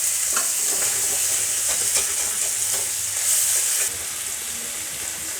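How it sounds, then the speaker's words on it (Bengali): Fish gills fry in oil in a pan, a steady close sizzle with occasional stirring clicks and scrapes, no voices. "এবার আমি এগুলোকে ভেজে নেব।"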